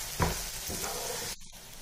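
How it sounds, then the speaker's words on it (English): Raw mango and dry masala paste fry in hot oil for mango rice, giving a soft steady sizzle with a stirring scrape at the start and a brief drop partway through. "Now fry this thoroughly until the raw smell of the masala disappears."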